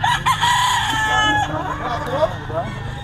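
A Black McRae gamefowl rooster crows close and loud, one full drawn-out cock-a-doodle-doo, with clucking and other fowl around it on a farm in the Philippines.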